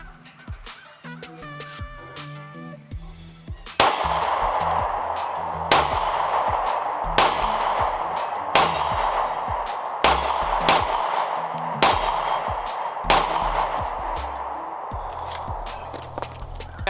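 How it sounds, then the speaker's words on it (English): A Sig P365 9mm pistol fires a string of sharp, loud single shots spaced roughly one to two seconds apart, each followed by a short ringing echo, after a stretch of quieter handling noise. "So first mag impression, I gotta say, it had a little bit more recoil than I initially thought"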